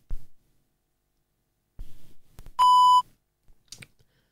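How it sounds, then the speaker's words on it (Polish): Penfriend audio label reader sounds its power-on beep: one clear, loud electronic tone lasting about half a second, set between soft handling clicks and thumps. "Kiedy usłyszymy taki właśnie sygnał, oznacza to, że penfriend jest uruchomiony i gotów do współpracy."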